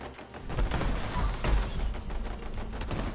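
Grenade launcher fire in Fallout 76, heavy booming blasts and dense rattling gunfire packed together, loud and close with rumbling low thuds, no talking.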